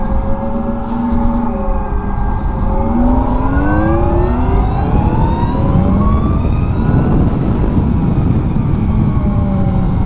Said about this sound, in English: Full on electric. It goes about 100 miles, or if I'm speeding like this